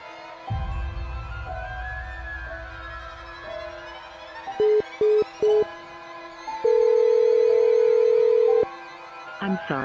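Phone call ringing during a Call of Duty game, with a steady dial-type tone and several short repeated beeps, then a long sustained tone, over game sounds and a low rumble.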